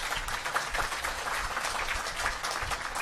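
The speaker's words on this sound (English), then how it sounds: "Give them a round of applause." Applause from the audience at the Gurukul Camp graduation ceremony, dense and steady clapping throughout, moderately loud with no break.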